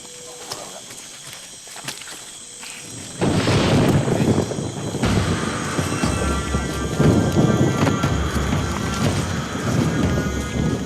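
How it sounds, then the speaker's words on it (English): Steady heavy tropical rain pours down in Bolivia with a deep rumble of thunder rolling underneath, loud and continuous after a quieter start. "The tropical rain threatens to erase all traces of the trail."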